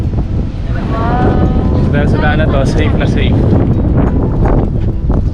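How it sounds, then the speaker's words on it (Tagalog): Strong coastal wind buffets the microphone over crashing waves near a lagoon shoreline, a steady loud rumble and hiss, while someone talks over it throughout. "Lakas ng alon, lakas ng hangin."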